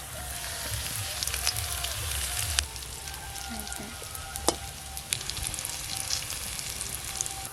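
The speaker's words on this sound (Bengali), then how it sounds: "এপিট ওপিট উল্টে হালকা করে ভেজে নিলেই হবে।" Sweet potato dhoka pieces fry in mustard oil, giving a steady, close sizzle with crackles and occasional sharp pops and utensil taps as the pieces are turned.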